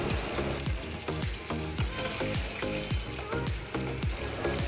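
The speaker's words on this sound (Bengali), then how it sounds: "চিকেনটাকে কষিয়ে নেব।" Chicken and potato pieces sautéing in a pan while being stirred, a loud dense sizzle broken by a rhythmic series of sharp scraping strokes, close up and without speech.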